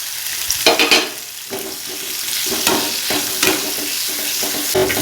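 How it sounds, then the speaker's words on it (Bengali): Vegetables sautéing in a pan with black cumin seeds for a rohu fish curry, a steady sizzle of frying broken by repeated scraping and clattering stirs of the spatula. "ভালো করে কষিয়ে নিচ্ছি সবজিগুলো দিয়ে"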